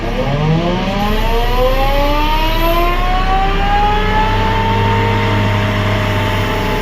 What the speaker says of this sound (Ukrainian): Тисяча оборотів запускаємо мульчер.